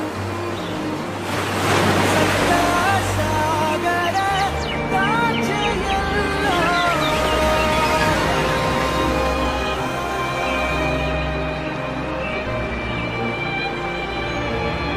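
Ocean waves wash in at the sea with a continuous surf roar and wind, while music with a sung melody plays over them throughout.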